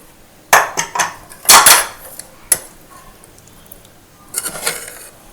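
Metal pressure cooker lid clanks and scrapes open over brinjal curry in a home kitchen, a few sharp, close knocks in two bursts with quieter clatter afterward; no talking.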